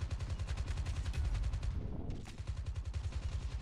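M4 assault rifle fire in Call of Duty Mobile during a team deathmatch, with rapid automatic bursts of loud, evenly spaced shots, a brief pause, then another burst.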